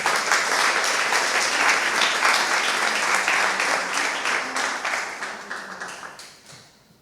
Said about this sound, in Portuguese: gostava que se aplaudissem a vocês mesmos por estarem aqui